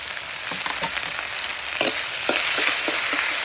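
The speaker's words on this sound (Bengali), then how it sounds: "তো এখন জিরে ফোড়ন দিয়ে দেবো তেলে, তার সঙ্গে আদা আর এই যে লঙ্কা।" Cumin seeds, ginger and green chilli sizzle in hot oil with a dense, close crackle, sharp pops and spatters scattered through it, and the sizzle swells louder partway through.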